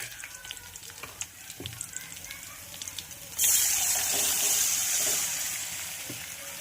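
A pigeon pea and spinach mixture is poured into a hot pan of fried garlic and bursts into a loud, steady sizzle that starts suddenly midway and slowly fades, after quieter kitchen clatter.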